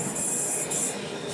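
Electric multiple-unit trains, class 377, at a London railway station platform produce a continuous rumbling hum with high metallic hiss and squeal surging in bursts, fairly close and loud, no talking.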